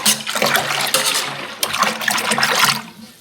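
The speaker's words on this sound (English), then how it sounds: "I'm just mixing the starter and water together with this dough hook thing, dough whisk" A dough whisk stirs sourdough starter into water in a bowl, giving a continuous wet sloshing and swishing that stays fairly loud and steady for a few seconds with no talking.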